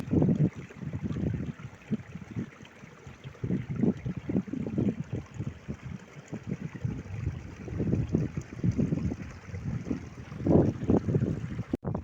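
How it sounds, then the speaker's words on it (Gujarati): A mountain stream flows and gurgles gently in a Himalayan valley near Uttarkashi, a soft, continuous wash of water with light wind noise on the microphone, moderately close, with no voices. "નિરાતે ખળખળ વહેતા પાણીનો અવાજ"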